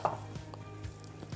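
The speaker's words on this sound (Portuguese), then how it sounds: "Agora vamos picar" A knife chops fresh parsley on a board, giving a few soft, spaced taps.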